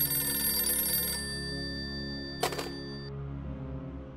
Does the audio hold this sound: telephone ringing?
yes